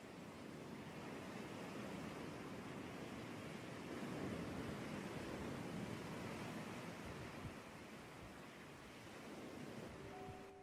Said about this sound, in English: The waves of the Pacific rush onto the shore during this beautiful sunset here in Imperial Beach, California.